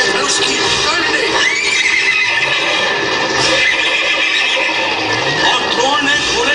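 Horses neigh and whinny loudly amid a dramatic battle scene, repeated cries over a dense, noisy soundtrack with a voice speaking throughout.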